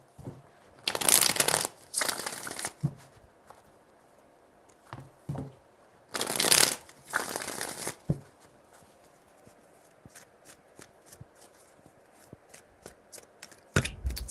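Tarot cards being shuffled in short bursts, two longer riffles followed by light taps and handling noises, close and fairly quiet, with no talking.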